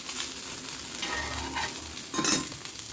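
Ragi dosa fries in a little oil on a hot pan, a steady close sizzle with a brief louder crackle near the end, no voices.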